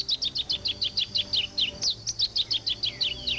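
A masked yellowthroat sings its territorial song in a marshy wetland: a rapid, clear series of repeated sweet chirping notes, steady and fairly near, with no talking.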